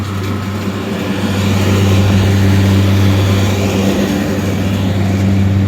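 A rebuilt Crippen Century 388 seed and grain cleaner starts up and runs with its motors and fans pushing out lots of air, building within a second or two to a loud, steady hum and rushing blow up close.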